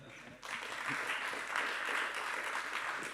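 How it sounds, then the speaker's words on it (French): An audience breaks into sustained applause, many hands clapping steadily at moderate distance after a brief spoken moment, at a conference on floods and drought. "On peut les applaudir."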